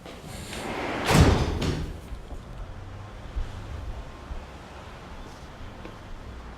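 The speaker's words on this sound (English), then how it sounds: "Close the door!" An indoor door is shut with one solid slam early on, followed by quiet room tone with faint small shuffles and no speech.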